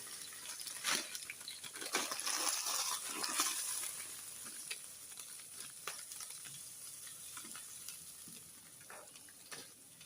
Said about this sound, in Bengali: ঘি গরম দিয়ে দিচ্ছি।